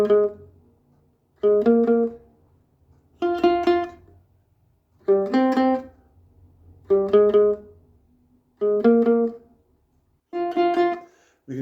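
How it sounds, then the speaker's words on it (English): A ukulele picks a bass riff in short, bright bursts, seven phrases separated by brief pauses, close and clear with no talking. "we thought let's transpose it for ukulele because it's a really cool riff to play as well"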